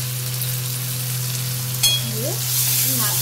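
Chopped tomato fries in a pan with a steady close sizzle, broken by a sharp scrape and brief stirring clatter partway through.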